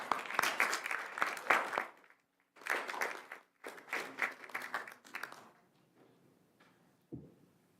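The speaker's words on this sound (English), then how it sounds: "If you can give them an applause." Audience at a Culver City council meeting claps in several bursts, a few seconds of lively applause, a brief pause, then more rounds that thin out and fade, ending with a single soft thump.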